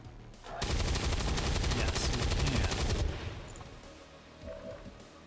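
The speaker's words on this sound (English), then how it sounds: "let's just take the drone shot now" A drone opens fire in the video game XCOM 2 Long War of the Chosen, a loud, dense burst of rapid automatic shots lasting a couple of seconds before cutting off to a quieter ambience.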